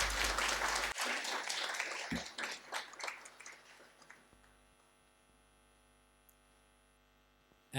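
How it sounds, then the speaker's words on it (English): Audience applause welcoming guests on stage at an inaugural session of an ecology conference, dense clapping that thins into scattered claps and fades to a low electrical hum. "Ladies and gentlemen, please welcome with a huge round of applause"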